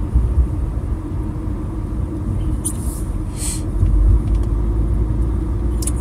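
Steady low road rumble fills a car cabin while driving, broadband and continuous, with a few faint higher clicks and swishes passing over it and no talk.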